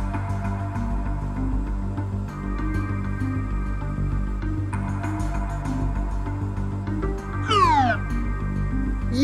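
A cat meows several times, close and clear, with a sharp rising cry near the end, over a constant low background hum.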